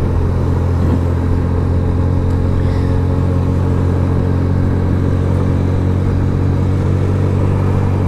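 A Suzuki Yes 125 motorcycle climbing a winding mountain road in fourth or fifth gear, its engine droning steadily and loudly under heavy wind rumble, with no voices heard.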